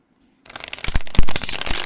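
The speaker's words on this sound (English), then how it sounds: "so shuffling, since they are regular sized tarot cards" Standard-size tarot cards are shuffled up close after a brief silence, a rapid papery riffle and rustle with several sharp flicks, loud and alone with no voices.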